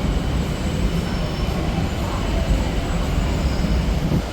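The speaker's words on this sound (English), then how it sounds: "It seems to be a railway station." A train passes through a railway station in Bangkok, a loud, close, continuous rumble of rolling carriages with faint wheel squeal and no voices.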